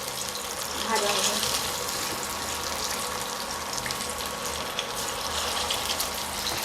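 Bhetki fish fillets sizzle as they are slipped one by one into hot oil, a constant close hissing and bubbling crackle with small spits, running steadily through the clip.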